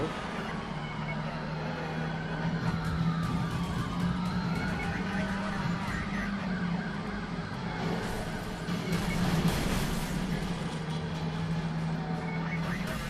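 A police car siren in the Driver San Francisco video game wails in rising and falling sweeps over steady engine and traffic noise. It is strongest early, then fades into the driving rumble.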